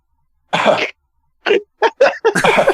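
A voice imitates a single cough, a short sharp burst followed by a few more brief vocal bursts close to the microphone, separated by silence.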